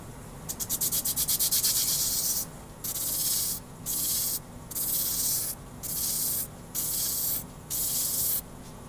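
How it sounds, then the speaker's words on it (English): A 150 grit disc sands a warped wooden bowl, starting with a fast pulsing burst and then settling into loud, close hissing passes about a second long, separated by short pauses. "This is a 150 grit disc right here."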